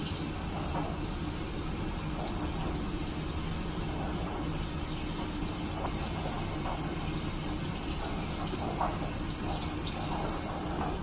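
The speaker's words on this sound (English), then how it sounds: "So then I'm gonna rinse this out again." Tap water runs steadily over a makeup brush being rinsed in a sink, a constant close splash with small shifts as the brush moves under the stream. No one talks.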